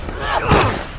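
Gunfire in the survival horror game The Evil Within 2, a burst of close shots merging into a booming blast midway, loud and dense over a background of game noise.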